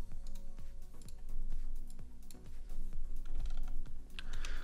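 Someone types steadily on a computer keyboard nearby, the key clicks falling in quick, even runs with brief pauses between bursts.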